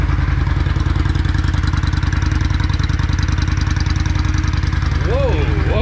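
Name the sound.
Yamaha Virago 535 motorcycle engine running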